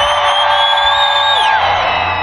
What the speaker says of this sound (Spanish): Un fuerte grito de todos ustedes a las tres.